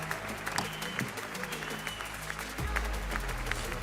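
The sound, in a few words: clapping after a FIFA game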